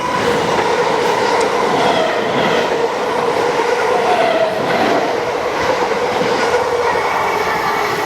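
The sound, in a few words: train passing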